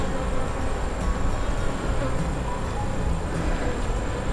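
Honey bees buzzing steadily around an open hive during a fall inspection with frames pulled out, a dense continuous hum close by that fills the whole moment.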